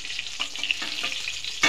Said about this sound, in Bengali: আমি একটুখানি তেল দিয়ে মশলাটা ভেজে নিচ্ছি